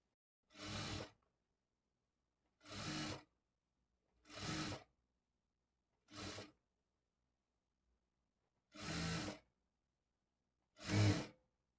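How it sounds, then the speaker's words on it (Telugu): A sewing machine stitches piping onto a blouse neckline in six short, separate bursts of close mechanical whirring, each under a second, with silent gaps between them. "ఇప్పుడు ఇదే స్టిచ్ మీద స్టిచ్ చేసుకోవాలి"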